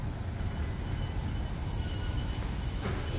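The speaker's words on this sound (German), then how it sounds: "von hier kann ich noch ein paar Züge aufnehmen" A train rumbles past at a station platform in Zwolle, Netherlands: a steady, loud low-frequency roar of wheels and carriages with a faint high squeal near the end, no voices.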